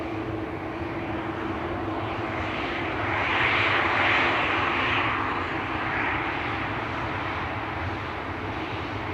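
A Croatia Airlines Airbus A220 lines up at Schiphol Airport, its engines giving a continuous roar that swells to a peak midway and then eases slightly, with no voices.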